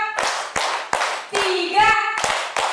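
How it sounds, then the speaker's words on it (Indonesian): A group of parents and teachers at a positive-culture session at SDN Malaka Jaya 06 Pagi elementary school claps in unison, with sharp, loud, evenly spaced claps between stretches of a leader's counting voice. "Tepuk 1, tepuk 2, tepuk 3, tepuk 4,"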